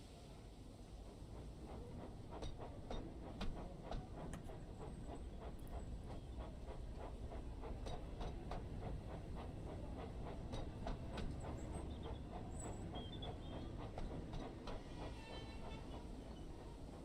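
A locomotive moves off after its reverser is pushed forward, giving a steady rumble with a rhythmic clickety-clack of wheels over rail joints and light hissing, continuous and moderately distant.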